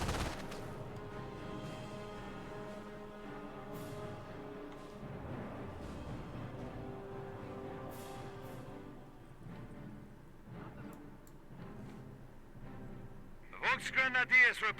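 Scattered small-arms and machine-gun fire in a World War II real-time strategy battle from Company of Heroes 1, distant bursts mixed under continuous in-game unit voices, with a denser volley of shots at the end.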